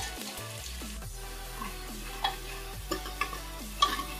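Onions frying in a pan for a mutton curry, cooked until brown. A steady low sizzle runs under repeated stirring scrapes and a few light utensil knocks near the pan.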